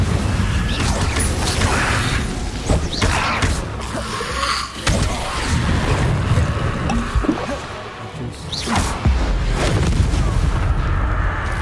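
Spell effects in Hogwarts Legacy combat, the Incendio fire spell among them, burst as loud rumbling booms and crackling whooshes layered over continuous mechanical game noise, with several hits in quick succession.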